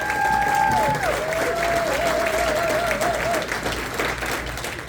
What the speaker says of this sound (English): One more round of applause for W.